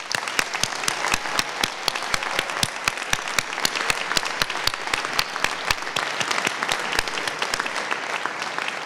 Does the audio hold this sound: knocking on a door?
no